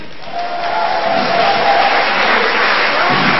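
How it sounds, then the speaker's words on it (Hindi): A live audience at a magic show, a black-magic act at Inaam Ghar, breaks into sustained applause and crowd noise after a trick, a dense wash of clapping swelling and holding steady. "बहुत सारी तालियां भाई"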